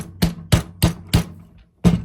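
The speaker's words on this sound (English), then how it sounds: "hit it with a hammer" Five sharp metallic hammer strikes on a pin while installing a trigger in an AR rifle, close and loud, four in a quick steady rhythm, then a short pause before the last blow.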